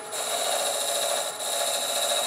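A lathe parting tool chamfers the end of a wooden napkin ring, giving a steady, loud rasping whir that runs almost continuously with a brief dip partway through, no talk.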